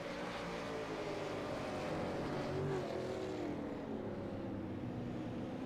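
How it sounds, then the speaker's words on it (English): Steady engine drone from sim-racing supercars in a racing video game at the Montreal circuit, pitch falling and rising slightly as revs drop through turns 1 and 2, continuous and fairly loud with no talk. "Listen to the revs drop as they go through 1 and 2."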